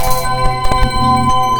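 A notification bell chime rings out clearly with sustained tonal ringing over a layered musical background, several bright struck accents sounding in quick succession.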